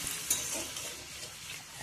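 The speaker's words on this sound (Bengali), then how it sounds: "আলুর দমটাকে মশলা দিয়ে কষিয়ে নিচ্ছি" Potatoes for aloo dum stir-fried with spices in a pan, a close, steady sizzle with a soft scrape of stirring, brief and without talk.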